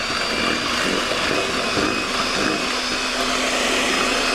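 An electric mixer whirs steadily and loudly without a break as it beats banana bread batter after whipping cream has been added.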